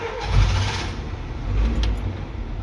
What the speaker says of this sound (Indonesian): mesin Suzuki 4 silinder